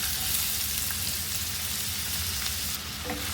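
Two large finely sliced onions frying in hot oil in a pan for a hotel-style paneer dish, a dense steady sizzle with faint stirring clicks throughout.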